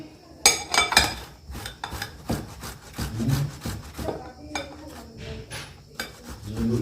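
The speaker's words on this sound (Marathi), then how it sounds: "दोन्ही बटाटा किसून घेऊया." Peeled potatoes are grated by hand in a kitchen, with close, uneven rasping strokes in quick bursts and brief pauses between them, along with a few light clinks.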